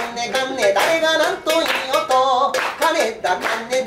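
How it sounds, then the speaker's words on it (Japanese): An audience claps along in time to a kankara sanshin (tin-can three-string lute) song at a Buddhist temple's Segaki memorial festival, with crisp rhythmic claps over the sung melody. "お手拍子どうぞ。"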